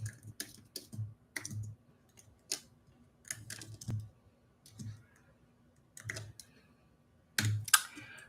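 Keystrokes on a computer keyboard tap out in short irregular bursts, close and fairly quiet, with brief pauses between runs of clicks and no one talking over them.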